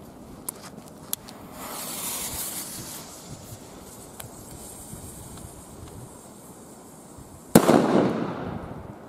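A red Corsair firework from Funke goes off outdoors with a rushing, crackling burst, a few sharp pops early on, then a loud bang near the end with a fizzing tail.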